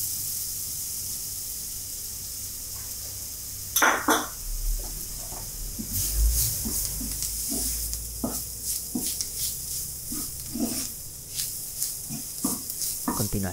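Sofrito with spoonfuls of flour and hot and sweet paprika fries in a pan over medium-high heat, a steady hiss under repeated scraping stirs and light clatter of a utensil against the pan.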